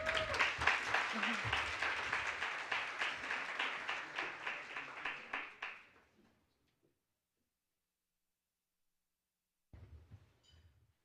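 Audience applause welcoming Dr. Darrick Hamilton to the stage at the Future of Wealth Awards, steady crowd clapping that fades out after about six seconds, followed by silence and faint stage sound.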